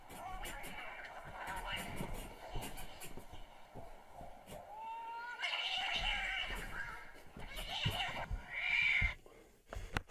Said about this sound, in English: Did you ever hear cats fight before, Anthony?